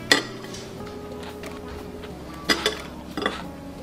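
Cutlery clinks against a plate while caviar is cut into small quenelles, with a sharp metallic tap at the start and a few more light clicks and scrapes later, under quiet room tone.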